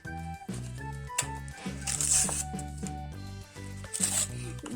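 Plastic toy surprise packages being torn open, with crinkling wrapper rustle and tearing bursts over a steady musical backing, close to the listener.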